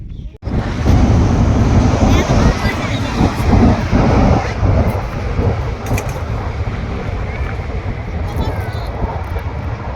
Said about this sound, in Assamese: এফালে ট্রেন গৈ আছে